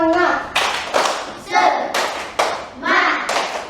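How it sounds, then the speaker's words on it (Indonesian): A school class claps a rhythmic spirit clap in unison, with sharp grouped bursts of hand claps alternating with children chanting together, loud and close. "tepuk semangat"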